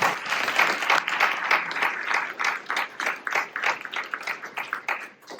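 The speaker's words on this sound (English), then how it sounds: "Can we give him another round of applause?" A round of audience applause at a clean energy event in Oak Park, many hands clapping in a lively, rhythmic burst that gradually thins and fades.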